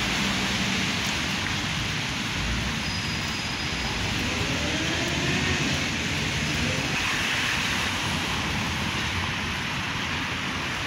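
Rain falls on a rainy day outdoors, a loud, constant wash of noise with a low rumble underneath, lasting the whole stretch with no clear speech.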